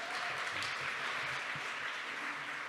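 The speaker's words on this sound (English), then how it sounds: "please just give a round of applause for Angela Davis" A conference crowd at a public safety plenary applauds to welcome Angela Davis to the stage, a steady wash of clapping heard at a moderate distance, somewhat soft and even throughout the short stretch.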